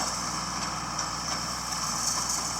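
A tractor engine idles steadily during hay work on a farm, a constant, fairly loud rumble with a droning hum that holds unchanged throughout, with no voices.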